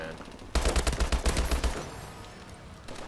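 Gunfire in an online shooter video game: a sudden, loud, rapid burst of automatic shots lasting about a second, then fading into quieter game ambience.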